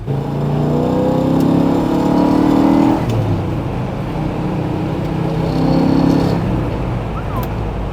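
A 1965 Pontiac GTO Tri-Power engine revs hard and accelerates loudly close by, the roar swelling, easing off around the middle, then surging again.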